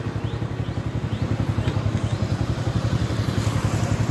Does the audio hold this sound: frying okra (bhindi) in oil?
no